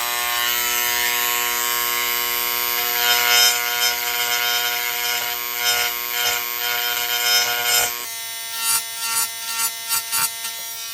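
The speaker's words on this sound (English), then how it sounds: "I think the engraver is working pretty well. It's like a teeny tiny little slag hammer." An engraver buzzes against a 2003 Jeep Liberty 3.7L engine part to tap out dirt, first a loud continuous rattling whine for several seconds, then a series of short separate bursts of buzzing tapping.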